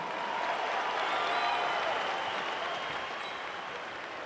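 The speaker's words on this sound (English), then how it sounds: "could we please have a round of applause for these two world-class warriors?" Sustained applause from a large boxing crowd after a 10-round women's fight, a steady wash of clapping heard from some distance, fading slightly toward the end.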